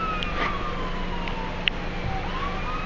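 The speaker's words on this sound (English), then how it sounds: "We got emergency vehicles coming from all over the place." Wailing emergency vehicle sirens from fire trucks and ambulances rise and fall steadily at a moderate distance, heading along a backed-up I-10 freeway in Phoenix during a massive dust storm.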